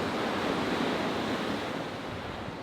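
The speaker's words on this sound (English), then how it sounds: "There's a big freshwater waterfall coming in behind us." Large freshwater waterfall pouring into clear ocean water, a steady, broad, loud rushing roar with no breaks, heard close up and alone.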